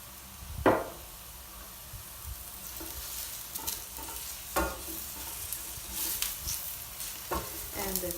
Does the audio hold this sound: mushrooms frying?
yes